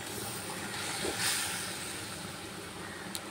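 A pot of gravy with fish-roe dhoka dumplings simmers, giving a steady close hiss with soft bubbling throughout, no talking.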